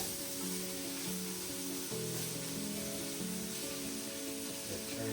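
Onions sizzling steadily in a hot pan with pork chops, a continuous close crackle with a faint tonal hum underneath.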